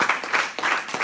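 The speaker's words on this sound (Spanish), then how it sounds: "Dale un aplauso a Cristo" An audience claps at a postgraduate Bible institute service, the applause swelling in a few uneven bursts over a short moment.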